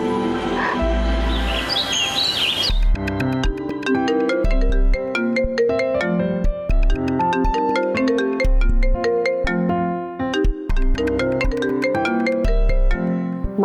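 A phone ringtone plays loudly and steadily as a bright, repeating melodic tune, with a brief birdlike chirping burst at the start before the ringing pattern settles in.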